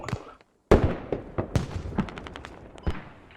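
Rapid bursts of gunfire in the military shooter game SQUAD, loud sharp shots in an irregular rhythm after a brief silence, with several distinct reports close by.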